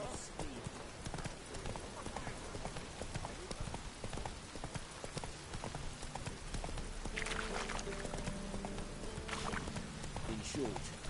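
Roach the horse galloping in The Witcher 3, a steady clip-clop of hooves throughout with a voice speaking over it and background game sound.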